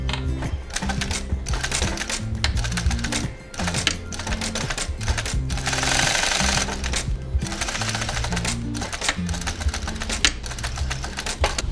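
A sewing machine stitches the gusset of a leather round-zip long wallet, running in a steady, continuous mechanical rattle with brief pauses between bursts, close and fairly loud.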